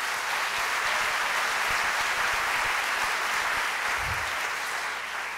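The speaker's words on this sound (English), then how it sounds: "I think we should applaud them for that" A large audience at an evening author event applauds steadily, a dense, even roar of many clapping hands that holds throughout and fades slightly at the end, with a faint low thump near the end.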